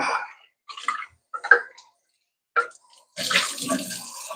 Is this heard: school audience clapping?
no